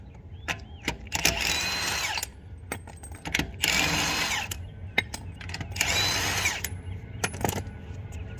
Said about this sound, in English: I'm gonna cheat a little bit and use my impact drill